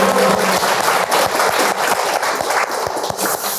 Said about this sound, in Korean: 따뜻한 환영의 박수를 좀 드리면 좋겠습니다